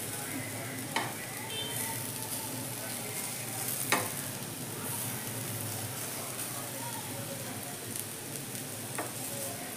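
Alu vadi slices sizzling steadily in a frying pan, with a continuous close crackle of hot oil and a few sharp taps as the pieces are turned over; faint speech is heard in the background.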